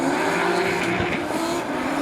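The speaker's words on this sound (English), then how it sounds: "Turbo S13 big RB30 powered one, 800 plus horsepower, chasing down the 2JZ powered Nissan of Jerry Zhu" Drift cars race at a D1NZ pro championship event in Wellington, a turbo RB30-powered Nissan S13 of over 800 horsepower chasing a 2JZ-powered Nissan, with loud sustained engine roar and tire squeal.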